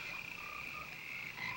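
A dense chorus of frogs croaks steadily around a high school, a continuous layered trilling buzz with no gaps and no voices.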